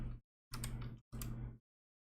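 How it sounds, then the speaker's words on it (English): Someone types on a computer keyboard in three quick, close bursts separated by short silences, with no talking. "Am I typing this right?"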